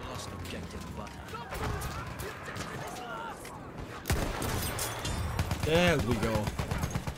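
Battlefield 1 gunfire crackles through a busy battle, with repeated shots and rattling bursts that grow louder midway, and someone briefly speaks over the noise.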